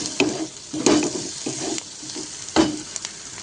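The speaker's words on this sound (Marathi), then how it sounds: "कांदा छान लाल झालेला आहे आलं लसूण पेस्ट घालून घेऊया" Onion frying with ginger-garlic paste, turmeric and red chilli powder for an eggplant dish, a soft continuous sizzle broken by a few sharp spoon knocks and scrapes against the pan.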